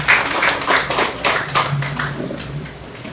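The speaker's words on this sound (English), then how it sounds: "Let us give him a round of applause, please." A small crowd claps at a police change-of-command ceremony for an outgoing officer, uneven and fairly close, thinning over three seconds with a faint voice near the end.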